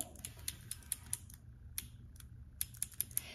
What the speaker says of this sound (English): these are like keys on a keyboard, and there's two of them, and you can make that really fun clicky noise